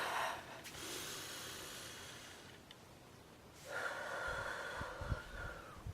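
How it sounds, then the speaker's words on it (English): Deep, slow breathing near the mic: a long broadband exhale, a pause, then a second strong breath with a snort-like rush of air, no talking. "You're going to take good deep breaths."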